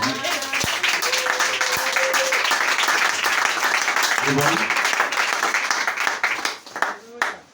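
An Easter church congregation applauds together, a dense run of clapping that holds steady for about six seconds and then thins into scattered claps, with a voice briefly heard at the start.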